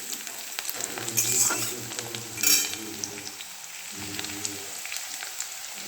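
Chopped garlic frying in a pan makes a continuous, fairly loud sizzle, broken by two brighter bursts of spatter and stirring scrapes partway through.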